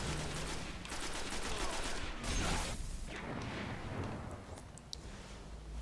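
Gunfire from a golden gun in the Destiny video game: dense, steady shooting with bursts of noise and sharp high cracks near the end, loud and continuous across the whole stretch with no talk over it.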